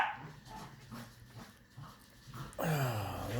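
Corgi puppies pant and whimper close by in soft, irregular breathy bursts, ending in a louder, rising whiny whimper.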